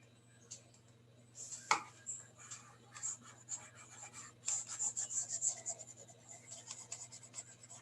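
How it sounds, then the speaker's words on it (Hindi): An eraser rubs out writing during an accounting lesson, with faint scratchy back-and-forth strokes in short bursts and a light tap, close and quiet over a steady background hum. "तो ये वाला पोर्शन हम रब कर देते हैं।"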